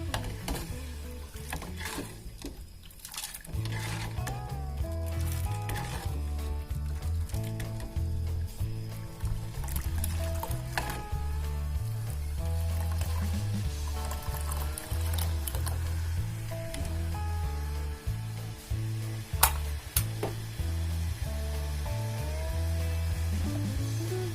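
Palm sugar vinegar sauce for pempek reheating and being stirred in a pan, a steady low sizzle with soft wet squishing and scraping that runs on for the whole stretch, with occasional sharper clinks, and no talk.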